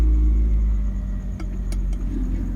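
A Toyota Celica on its first drive after motor swaps, a loud, steady engine and road rumble from inside the car with a couple of brief clicks and no talking.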